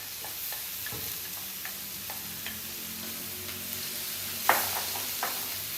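Frozen vegetables hit a pan of frying onion and garlic, giving a steady close sizzle with occasional clicks and one sharper stir near the end, and no talking.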